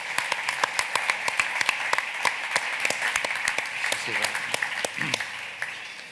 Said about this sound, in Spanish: Un aplauso para Maika, la nueva directora, que se merece un gran aplauso por toda la gestión.